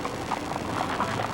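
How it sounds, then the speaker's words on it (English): Hooves of Spanish Andalusian stallions clip-clop on pavement in a New Year's Rose Parade, a steady rhythmic patter of steps amid street crowd noise, moderately close and continuous. "Love the sound of the horses."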